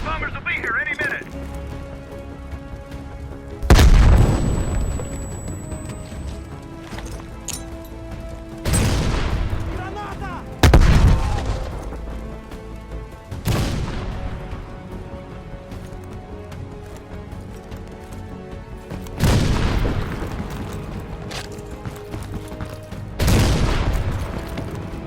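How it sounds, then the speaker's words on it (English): Heavy bombing-strike explosions in a Vietnam-era Call of Duty bunker battle: five or six loud booming blasts land a few seconds apart, each with a rumbling tail, over constant crackling gunfire and battlefield din. "Bombing strike imminent."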